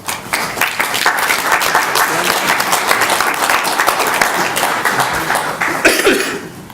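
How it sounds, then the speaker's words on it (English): A debate audience applauds both speakers in a sustained, loud, dense round of clapping from a large crowd, with a cough or two and a fading tail at the end. "So if you please give a round of applause to both speakers."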